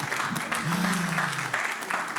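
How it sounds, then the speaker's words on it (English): A room full of people gives a round of applause for a speaker at an adult investment session, continuous clapping with a voice briefly talking underneath. "Please, a round of applause for Ogechi."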